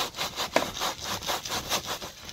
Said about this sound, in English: Just take that and saw it sideways back and forth,